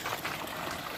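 Water flows steadily into a farm water tank, a continuous close splashing rush with no voices over it.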